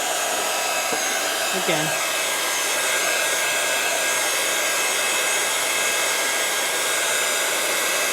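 A heat gun dries mica powder on a stencilled surface, producing a continuous, near hot-air whoosh throughout, with one brief spoken word near the start.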